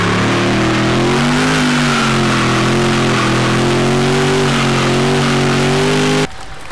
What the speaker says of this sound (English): it comes with a BMW V8 which spin the back tyres